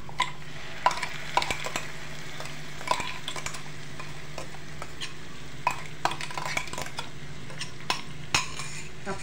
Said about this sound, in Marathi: आणि बारीक केलेली पेस्ट टाकायची आहे।